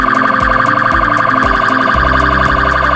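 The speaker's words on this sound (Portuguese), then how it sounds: "Tem outra sirene ligada." Two police sirens wail together, their repeating electronic tones overlapping into a loud, dense, pulsing howl.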